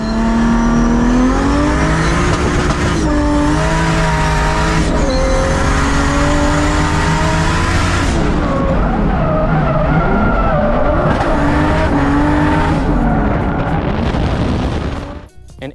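A Nissan 240 race car lapping Virginia International Raceway at a Hyperfest event, its engine loud and continuous as it revs up and down through gears, with tire squeal and a drop in revs near the end.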